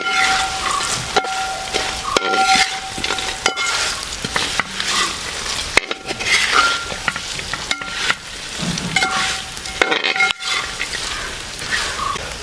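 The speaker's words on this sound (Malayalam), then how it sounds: "നമ്മൾ ഫ്രൈ ചെയ്ത് വെച്ച ബീഫ് ഇതിലേക്ക് ചേർത്ത് കൊടുക്കണം. നന്നായിട്ട് ഇളക്കി യോജിപ്പിച്ച് കൊടുക്കാം." Fried beef is stirred into a sizzling beef pickle mixture in a pan. Repeated scraping spoon strokes come up close over a continuous frying sizzle.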